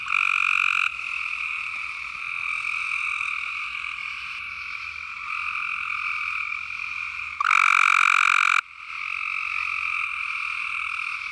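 Tree frogs calling at a vernal pool at night in South Carolina, a dense, steady chorus of high trilling croaks continuing without a break, with one louder nearby caller briefly rising above the rest.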